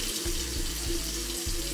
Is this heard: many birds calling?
no